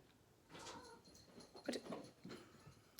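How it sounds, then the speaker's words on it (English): A cat cries out in the background several times, faint and somewhat distant, with brief harmonic yowls rising above a quiet room. "My cat, I don't know if you can hear her in the background."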